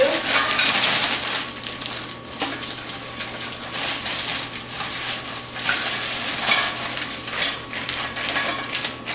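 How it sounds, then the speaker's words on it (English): Broccoli dumped into a big pot on a stove, a close rustling clatter of pieces tumbling in, followed by further scattered rattles and sizzling. "I only have a little bit of broccoli, so I'm going to dump it all in at once into my big pot here on the stove."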